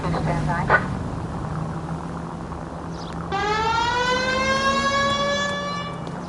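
A police car siren in the 1940s Los Angeles crime video game L.A. Noire rises and then wails steadily under a low engine drone, loud and close, after a brief voice at the start.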